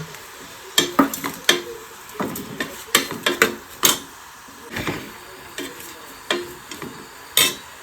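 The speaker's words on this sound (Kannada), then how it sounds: "ನೆಕ್ಸ್ಟ್ ನೀರುಳ್ಳಿ ಬೊಕ್ಕ ಟೊಮೆಟೊ ಪಾಡುವೆ ಚೂರು ಉಪ್ಪು ಪಾಡ್ದು ಫ್ರೈ ಮಾಡ್ತದ" Onion and tomato with a pinch of salt frying and being stirred in a pan, with repeated scraping and clinking of a utensil against the metal in irregular bursts over a soft sizzle.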